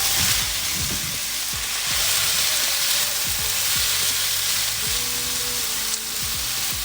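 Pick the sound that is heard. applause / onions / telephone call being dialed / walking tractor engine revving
onions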